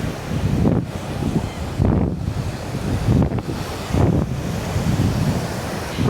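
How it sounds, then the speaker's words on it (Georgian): Strong sea waves roll in at a Tel Aviv beach in heavy surf, a loud continuous roar that swells every second or so, mixed with buffeting wind noise on the microphone. "მაგრამ აქაც მაგარი ძლიერი ტალღები ჩანს"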